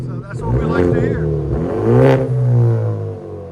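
A 2023 Genesis G70 2.0L turbo with resonator and muffler delete revs loudly and close up, its exhaust note rising and falling through a couple of throttle blips while people talk over it.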